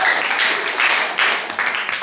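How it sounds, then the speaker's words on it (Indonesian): A church congregation claps together at a fellowship service, a brief dense wash of applause with voices mixed in. "Berikan tepuk tangan, amin."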